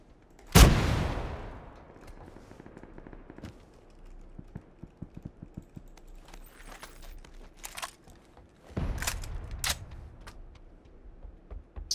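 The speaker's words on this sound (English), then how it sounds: "I'm gonna shoot." A sharp, loud shot from a gun in PUBG, followed by quieter scattered clicks and a burst of further shots near the end.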